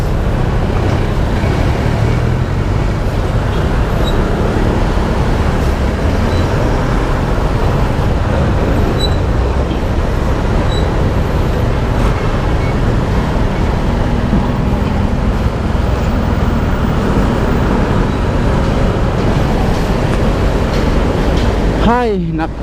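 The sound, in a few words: heavy road traffic noise in the Philippines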